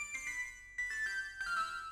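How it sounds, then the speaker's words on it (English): A soft synth background pluck for a rage trap melody plays a few bell-like, shimmering notes with long decays, gentle and close, alone without speech. "This is one more pluck called background."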